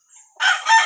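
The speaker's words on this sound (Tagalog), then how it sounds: "Pangatlong labuyo ko." A junglefowl rooster kept as a backyard gamefowl in a province crows once, close and loud, with a brief softer call just before the full crow.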